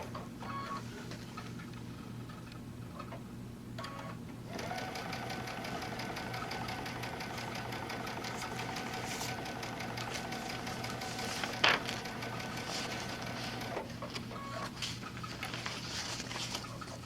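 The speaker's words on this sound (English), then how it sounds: "So I'm going to make sure that when I'm basting that I grab all the layers of fabric" Sewing machine basting layers of fabric for a reading book pillow, a soft steady whirring stitch that starts, runs evenly for several seconds with a brief click, then stops, close and fairly quiet with no talking.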